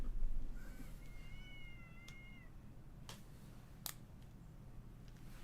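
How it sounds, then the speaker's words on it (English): An indoor cat lets out a drawn-out, wavering meow that rises and falls, fairly faint and set back from the microphone, followed by a few sharp clicks in an otherwise quiet room. "That cat is having a ball today. He just yells"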